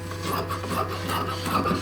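Banarasi sari fabric being cut and trimmed for a dhoti, giving a continuous close rasping, rubbing sound with a steady low hum underneath.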